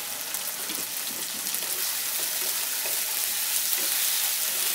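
Chopped tomato and spice paste fry in hot oil in a wok while being stirred, giving a dense, continuous crackling sizzle that stays loud and close throughout, with no talk.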